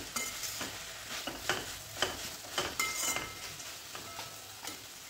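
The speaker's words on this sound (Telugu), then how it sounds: "దీనిలో కొంచెం ginger garlic paste and curry leaves, కొంచెం పసుపు అన్నీ వేసి మంచిగా ఫ్రై అవ్వనివ్వండి" Ginger garlic paste, curry leaves and turmeric fry in a pan for a brown rice veg pulao, giving a steady soft sizzle broken by repeated spoon scrapes and stirs against the metal, close and fairly quiet, with no voices.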